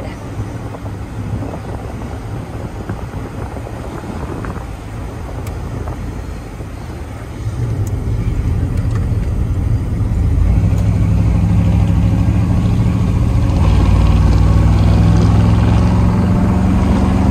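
Deep, steady rumble from the modified engine of a 1990 GMC Sierra pickup, idling low and then stepping up louder twice as it runs on, with no talk over it.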